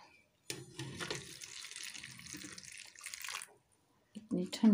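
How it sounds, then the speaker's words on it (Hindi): Hot water splashes and pours onto cut cauliflower in two bursts separated by a pause, close and fairly loud, in a home kitchen during cooking. "डाल दिए गरम पानी।"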